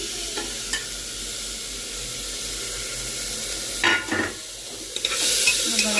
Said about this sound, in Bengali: এবার নেড়ে ভালো করে নেড়ে